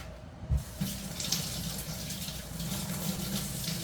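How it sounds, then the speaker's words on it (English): A hand is rinsed under a running kitchen tap during pickle relish canning, a steady close splashing stream that runs alone for the whole few seconds. "Let me rinse my hand off again."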